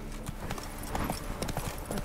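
Rapid, rhythmic hoofbeats of a horse named Roach galloping in The Witcher 3 video game, a steady close clip-clop pattern with no talk over it.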